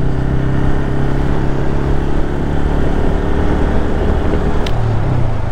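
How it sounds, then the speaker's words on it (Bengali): A Bajaj Pulsar N160 motorcycle exhaust under way, a steady loud drone with a low throbbing tone and constant road and wind rush, the engine note shifting slightly near the end. "এক্সজস্টের সাউন্ডটা পারফেক্ট মনে হয়েছে, ইভেন অনেক লাউড শুনতে বেশ ভালো লাগতেছে"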